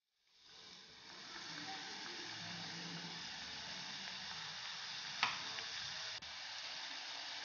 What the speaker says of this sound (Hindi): अब हम इसको तलेंगे तेल में।